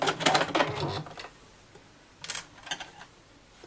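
A sewing machine stitching a reusable fabric cutlery pouch whirs in two short, quiet bursts with a pause between them.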